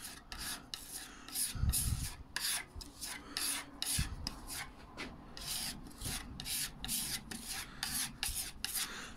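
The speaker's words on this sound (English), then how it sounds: "This stuff sands off quite easily" Sandpaper rubs filler on the side skirt of a hospital bed being refinished, steady rhythmic back-and-forth rasping strokes, close and continuous with a couple of bumps.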